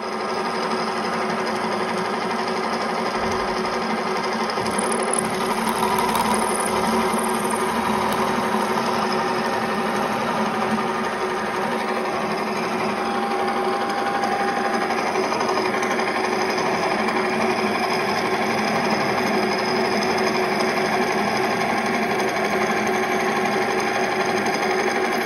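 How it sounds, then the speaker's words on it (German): Drill boring a hole through a welded Miele oven hinge, a steady high whirring grind running continuously and fairly close, with no voices. "Jetzt spanne ich das wieder ein und bohre das Loch einfach wieder durch."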